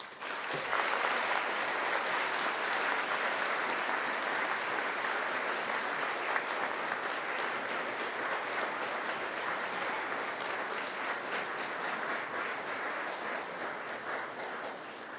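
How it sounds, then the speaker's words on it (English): At a university graduation ceremony, graduates turn to applaud their families and friends, producing long, sustained, even applause from a large crowd in a hall, steady throughout and heard without any speech. "And now I invite you to give them a mighty round of applause."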